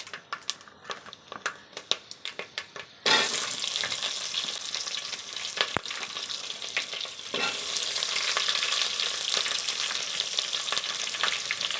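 Onions and green chillies frying in a pan for vegetable biryani, starting with light stirring taps and then loud, steady close sizzling that surges again partway through.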